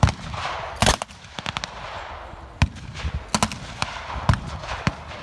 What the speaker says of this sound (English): Once again, the German half-track presses forward and fires.